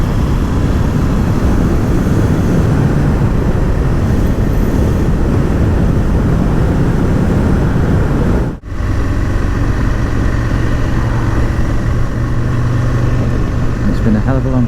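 Riding an Aprilia RSV Mille R motorcycle: a loud, continuous engine roar mixed with heavy wind rush, steady throughout apart from one brief dip partway through, heard from the rider's position.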